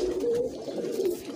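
Pigeons coo close by in a short, soft, throaty burst of low rolling calls, heard alone without speech.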